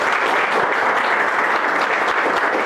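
An audience claps together in a steady, dense burst of applause that fills the whole moment, close and even, with no voices over it.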